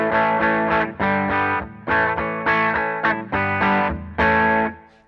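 Electric guitar played through a distortion pedal with controls set at the middle, producing a series of loud, sustained distorted chords and riffs in bursts, with no talking.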